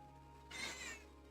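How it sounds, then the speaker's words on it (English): A pet cat lets out a single short meow, faint and somewhat distant, rising briefly over a quiet room hum. "you might hear her meowing a little bit."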